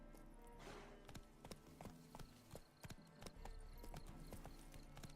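Horse hooves clatter at a gallop in The Witcher 3: Wild Hunt, a fast, even string of crisp clip-clops that is fairly faint and heard alone.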